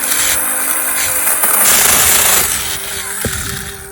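A battery chainsaw trims small tree branches, its motor buzzing loudly and continuously up close, with cutting strain swelling and easing and a sharp snap near the end.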